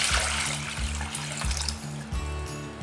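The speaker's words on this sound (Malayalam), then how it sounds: "ഞാൻ വേറൊരു പാത്രത്തിൽ ഇവിടെ ഈ വെള്ളവും കൂടി ഒഴിച്ച് കൊടുക്കുകയാണ് തിളപ്പിക്കാനായിട്ട്" Water being poured from one vessel into a cooking pot to boil for palada payasam, a soft continuous trickling splash with a steady low pulsing hum in the kitchen background.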